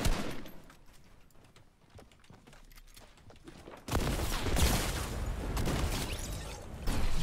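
Gunfire in the video game Fortnite: sparse, quieter shots crackle for a few seconds, then a sudden loud burst of dense, sustained automatic fire with booming impacts continues to the end, with no talking.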